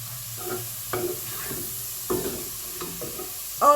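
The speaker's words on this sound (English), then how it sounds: "So I've got some spring onions or scallion that I'm just adding in." Spring onions, washed and added to a dry pan without oil for a chana meal-prep dish, give a soft sizzle with several bursts of stirring scrapes, close and fairly quiet.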